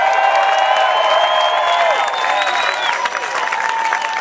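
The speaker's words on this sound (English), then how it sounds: "Give yourself one more loudest cheer possible." A large crowd cheers loudly and continuously, whoops and sustained voices blending into a dense roar with some clapping mixed in, steady and close throughout.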